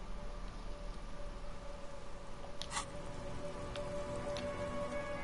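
Steady rain ambience in the video game Disco Elysium, a soft continuous patter with scattered nearby drips and a faint tonal hum underneath, with no talking.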